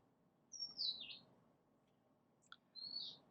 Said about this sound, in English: Can you hear that bird? Very loud bird.